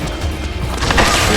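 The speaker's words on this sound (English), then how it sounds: "Grenade, qui a balancé une grenade et où?" A grenade going off in the stealth action game Metal Gear Solid 4, a short, dense, loud blast of crashing noise that swells toward the end of the moment.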